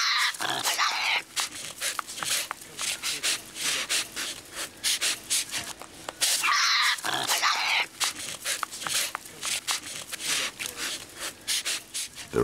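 Close, loud harsh rasping and growling from animals fighting over a carcass, with repeated scrapes and breathy snarls throughout and two sharper bursts of struggle. The narration calls them hyenas, though the setting is wild Australia.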